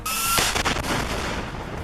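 Machine gun fire in combat in Gaza: a sharp, loud burst of a few rapid shots early on, followed by a rumbling, decaying echo.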